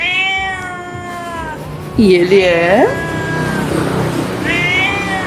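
A begging cat meows insistently for food on Sipora island in the Mentawai Islands, Indonesia: a drawn-out cry, then a louder rising-falling meow and a shorter one, close by with a person speaking.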